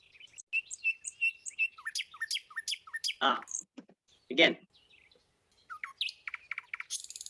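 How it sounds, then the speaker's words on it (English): A small bird chirps in rapid, repeated high tweets close up, with a short rustling pause midway and a brief spoken word. "Who can follow the sound of a bird?"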